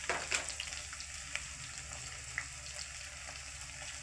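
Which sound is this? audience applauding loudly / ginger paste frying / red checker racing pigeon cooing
ginger paste frying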